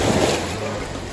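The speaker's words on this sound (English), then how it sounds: "listened to the sound of the beach, the waves, the air," Lake waves wash against the beach in Guatemala in a brief, steady rush, mixed with wind buffeting the microphone.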